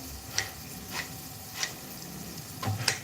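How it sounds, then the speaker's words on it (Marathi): Onion frying in a pan, soft continuous sizzle with a few light clicks of stirring against the pan, close and fairly quiet. "कांदा भाजतो आता आपला"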